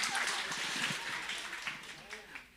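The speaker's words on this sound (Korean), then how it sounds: "박수 쳐드릴까요? 자, 박수." Audience applause at a church seminar, a soft, steady patter of many hands clapping at a distance, with some voices under it.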